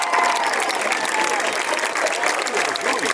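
A large crowd at a high school football stadium, Struthers Wildcat Stadium, applauds in a steady, dense wash of clapping that runs the whole time, with faint voices and tones mixed in underneath.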